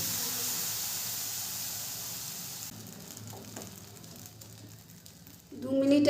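Appam batter sizzles and hisses steadily in a non-stick pan, a soft continuous fry that thins out midway before a louder burst of clatter and a brief voice at the end.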